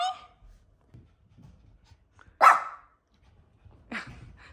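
Cody, a small dog, lets out three short barks spread apart in a quiet garage, the middle one loudest and sharpest, with faint shuffling between.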